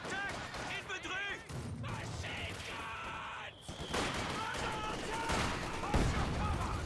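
Machine gun fire in the video game Company of Heroes 2, a dense, continuous crackle of rapid bursts mixed with other battle effects and a sharp impact near the end, loud and busy under voices.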